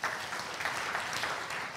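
A church congregation applauding, a steady spread of many hands clapping at moderate, slightly distant loudness, continuous with no speech over it.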